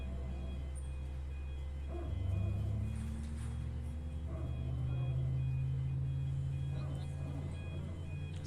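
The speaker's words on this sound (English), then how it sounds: "This plane sounds great starting up." An Airbus A320neo engine starts up in a flight simulator, a low rumbling hum rising steadily with a faint higher tone and a short barking hydraulic pulse sound, under quiet talk.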